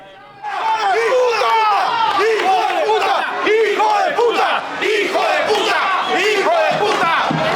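A soccer stadium crowd in Antigua Guatemala erupts in loud, continuous shouting and jeering after bad referee calls, many voices overlapping close and dense.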